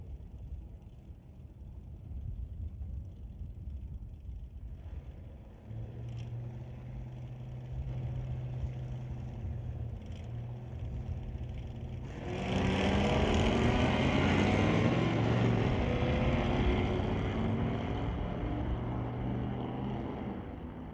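A Buick and a Ford Mustang in an ET series drag race rumble as engine drone at a distance, building into a louder, rising engine roar midway through that holds steady to the end.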